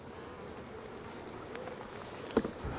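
Honey bees buzzing around queen-rearing hives outdoors, a soft continuous hum with a few nearer bees passing by and a brief bump, no talking.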